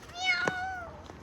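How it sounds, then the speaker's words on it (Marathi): A cat gives a single drawn-out meow up close, with a brief sharp noise partway through and people talking around it. "कॅट आहे, कॅट."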